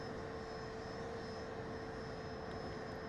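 Distant aircraft engine drone recorded from a Piper Cub as a Eurofighter Typhoon jet passes at full throttle, a steady, faint engine roar with a sustained tonal hum and no talk.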